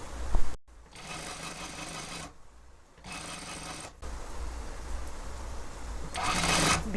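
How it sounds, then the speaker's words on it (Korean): A sewing machine stitches the fabric edge of two-tuck wide slacks, running in several steady, buzzing bursts separated by short stops, close and loud, with no voices. "헝겊 끝에를 박음질을 해주시면 됩니다."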